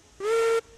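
A short, bright blast of a steam locomotive whistle from the Railroads Online game, a single clean toot under half a second long, loud and alone.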